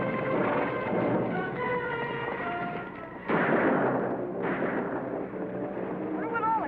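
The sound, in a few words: gunshots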